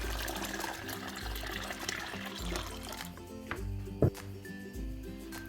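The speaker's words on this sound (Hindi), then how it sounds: "ऑरेंज जूस हमने इसमें डाल दिया है।" Orange juice pours steadily into a cooking pan on the stove, a continuous close trickle and splash with one brief clatter toward the end.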